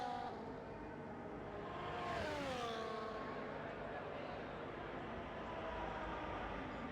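Onboard Ferrari Formula 1 car engine in the F1 24 racing game at Monza, a steady loud high-pitched whine with gear-shift sweeps in the middle, under a commentator's voice.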